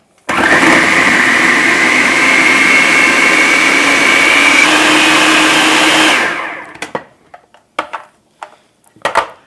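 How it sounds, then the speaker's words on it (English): A food processor whirs loudly and steadily as it blends banana peanut butter cake batter, gluten-free, oil-free and dairy-free, for about six seconds, then cuts off, followed by a few sharp clicks and knocks. "I am going to blend this all up in my food processor"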